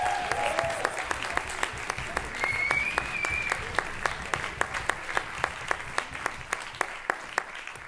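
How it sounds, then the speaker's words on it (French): Audience at a francophone slam poetry championship final in Le Mans applauding steadily, a dense wash of clapping with regular sharp claps cutting through and a brief whistle or cheer, fairly close and continuous. "vous pouvez l'applaudir très fort."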